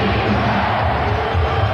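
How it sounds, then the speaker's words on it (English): A basketball arena crowd at an NBA Finals game chants for defense, a dense, loud, sustained roar of many voices with a rhythmic swell under it. "Chant of defense from the crowd."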